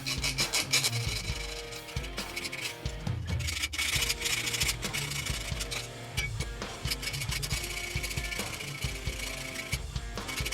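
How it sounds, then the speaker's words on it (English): A metal file rasps steadily against a threaded rod being shaped to fit a rototom bass drum, a dense continuous scraping that runs loud and close for the whole stretch, with no talking. "So since the rod is not fitting, so we'll use a file. I'm going to try to file it so the threaded rod goes in."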